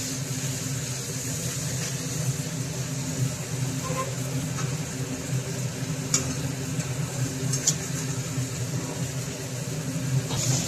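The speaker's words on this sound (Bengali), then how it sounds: "পুরো পেঁয়াজটা ভাজা ভাজা হয়ে গেছে। উল্টে দেন, দেখুন তাড়াতাড়ি হয়ে যাবে ভাজা।" Onions, already salted, fry in a pan and are flipped over as they soften, giving a steady close sizzle with occasional sharper scrapes of stirring and a constant low hum beneath, with no speech.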